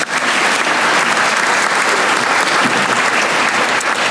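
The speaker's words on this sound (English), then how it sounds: "So give them a round of applause though." An audience applauds at a small business recognition awards ceremony. Dense, loud clapping from a full room holds steady for the whole stretch without pause.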